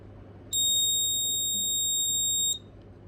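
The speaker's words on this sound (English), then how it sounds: "The buzzer will trigger, the red LED will light up" Error buzzer of a school attendance card reader sounding after an unregistered card is tapped: a single loud, steady electronic tone lasting about two seconds, clear over quiet room hum.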